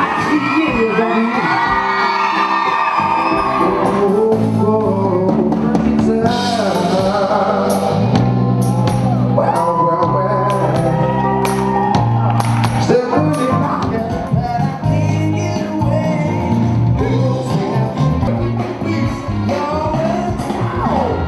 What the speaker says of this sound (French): Est-ce que vous êtes prêts à crier les amis?